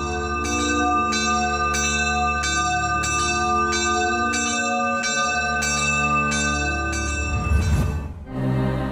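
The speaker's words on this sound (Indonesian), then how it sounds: "gereja ini memiliki 2 buah lonceng yang dibunyikan setiap setengah jam sebelum misa dimulai" Two bells of different sizes, one large and one small, ring at the Gedangan Catholic church in Semarang, striking in a steady, regular rhythm with long ringing tones, loud and close, before a brief rustle at the end.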